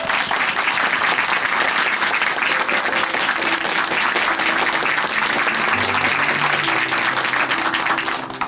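A church congregation in Chuncheon applauds after a testimony, producing steady, loud, sustained clapping from a large crowd that fills the whole stretch, with faint music entering softly near the end.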